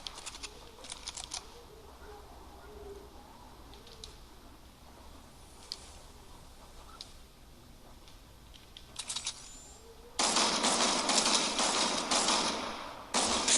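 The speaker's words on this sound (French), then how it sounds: "je pense qu'il y a des tirs" Bursts of rapid gunfire from a video game battle royale match, faint distant clusters early on, then a loud, dense sustained volley near the end, with no talk over it.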